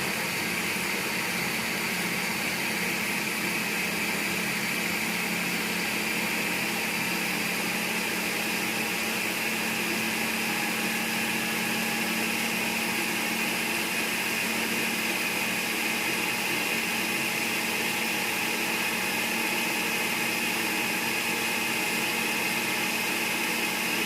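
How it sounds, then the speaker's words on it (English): A food processor purees raw liver, giving a loud, constant motor whir and blade churn that holds steady for the whole stretch with no talk. "I'm just simply going to put my lid on this food processor"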